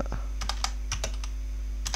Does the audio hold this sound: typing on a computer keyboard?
yes